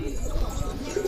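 Teddy pigeons give a brief, low, soft coo over a faint background murmur.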